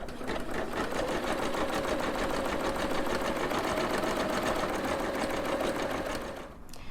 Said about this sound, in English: now I can keep embroidering my second thread color